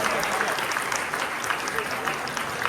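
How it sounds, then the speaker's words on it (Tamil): Close, loud, steady clapping from an audience at a book review awards ceremony, greeting a third-prize winner, dense and even with no gaps across the short stretch. "Give them big applause for the third prize goes to Safa."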